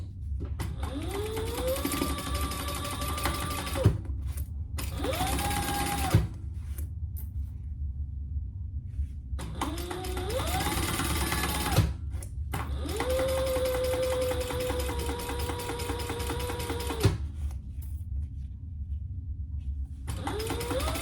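A sewing machine stitches a crossover bag in several bursts of rapid, whirring stitching, each rising in speed and then stopping, with short quiet gaps and small mechanical clicks between runs.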